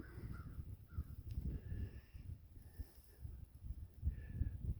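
A crow caws from a tree line on a Minnesota farm in bitter winter cold, with several short, harsh calls spread across the clip over steady gentle wind noise.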